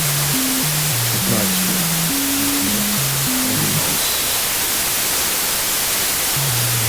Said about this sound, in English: I can of course use the noise unit directly without any sample and hold